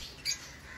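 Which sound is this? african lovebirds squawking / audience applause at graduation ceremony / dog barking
african lovebirds squawking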